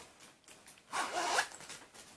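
A school pencil case zipper is pulled open in one quick, soft rasping run, close and quiet with no voice over it.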